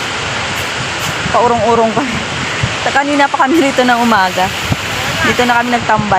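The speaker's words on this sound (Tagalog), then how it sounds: "Yung tunog ng alon." Steady broadband wash of ocean waves on a beach runs continuously as a loud roar while people talk over it throughout.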